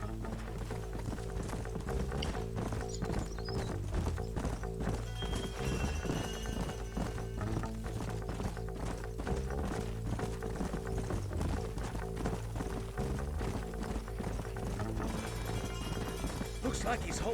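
Horses clip-clopping in Red Dead Redemption, a steady, moderately close rhythm of hoofbeats running continuously under a dense game soundscape, with someone talking over it.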